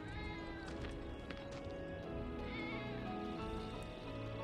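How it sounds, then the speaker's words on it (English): A cat meows repeatedly in the Final Fantasy remake video game, set against a dense, continuous game soundtrack and ambience. "I'm trying to get a cat to come out."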